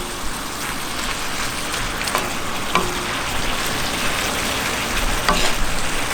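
Fajita meat searing on a homemade discada gives a loud, continuous sizzle and crackle with occasional sharper pops, steady throughout with no talking.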